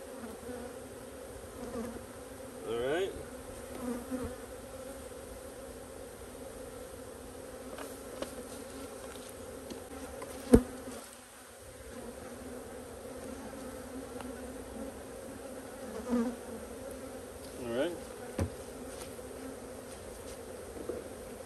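Honey bees hum steadily from an opened hive with a feeder removed, a continuous close drone with occasional louder passes of single bees and a sharp knock partway through.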